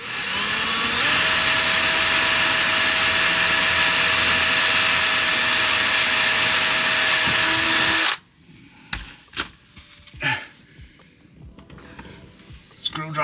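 A power screwdriver drives screws for curtain fittings inside a VW Crafter van conversion, whining loudly and steadily for several seconds before cutting off, followed by scattered knocks and handling noises in a quieter interior.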